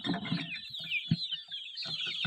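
Chickens on a chicken farm cluck and chatter continuously around a water setup, several birds at once, moderately close but fairly quiet.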